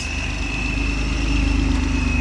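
Jeep JK with a RIPP supercharger idling steadily and close, with a persistent supercharger whine over a low, lumpy engine rumble that swells slightly as revs come up near the end.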